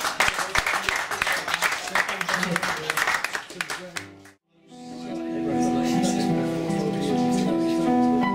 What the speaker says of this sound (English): Mayor Rain, everyone, put your hands together.